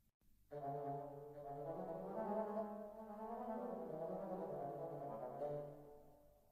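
Sustained orchestral woodwind ensemble chord passage from Cinematic Studio Woodwinds, without a spiccato overlay, smooth and legato with overlapping held notes, moderately loud and steady throughout, no voices.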